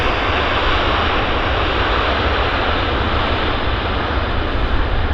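A plane lands and rolls out at Vancouver YVR airport, producing a loud, steady, broadband engine and rushing-air roar that fills the clip at close range, with no talking.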